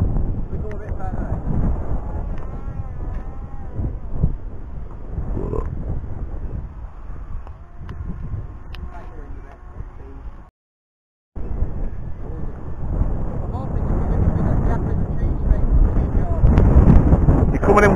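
Wind buffets the microphone at an open flying field during a drone flight, a constant loud low rumble with a brief dropout midway, while people talk over it.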